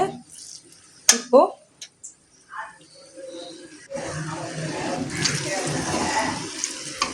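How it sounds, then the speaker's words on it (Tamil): Boiled goat trotter stock is poured into an onion-tomato masala in a cooking pan, a steady splashing and sizzling pour that follows some earlier clinks and handling sounds. "இப்போ இந்த போட்டி வேக வச்ச தண்ணியை ஆட் பண்ணிக்கணும்."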